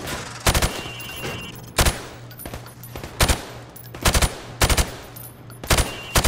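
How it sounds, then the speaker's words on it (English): Call of Duty 4: Modern Warfare training range gunfire through plywood targets: separate single shots and short double taps, sharp and close, spaced over a low steady hum. "I want you to shoot the targets through the wood."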